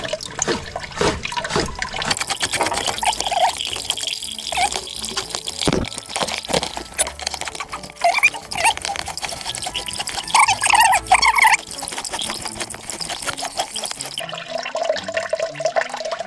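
Water from a hose flushing a spring, a continuous rushing and trickling flow with splashy bursts and gurgles, steady and close for the whole stretch with no talk over it.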